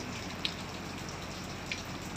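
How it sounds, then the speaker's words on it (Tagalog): Steady afternoon rain falls as a continuous soft hiss, broken by a few distinct drips landing close by, with no voices. "So, ganito lang dito, tuwing hapon na ulan-ulan."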